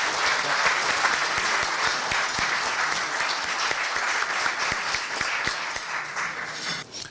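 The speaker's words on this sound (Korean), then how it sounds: "여러분들 뜨거운 박수로 우리 박원순 시장님을 모시도록 하겠습니다." Audience at a university labor forum applauding to welcome the Seoul mayor to the stage, a dense, sustained round of clapping from a large indoor crowd that fades near the end.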